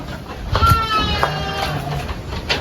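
Sheep bleating in a pen during care of a breeding ewe with her lambs, several short wavering calls close by over steady farmyard background noise.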